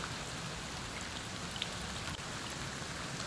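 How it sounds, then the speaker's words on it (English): Heavy rain mixed with hail pours onto slick rock beside a sheltering alcove on a hike between Bryce and the Paria, a dense, continuous hiss with no pauses, close and steady. "it's raining hard enough it's actually starting to pour off now"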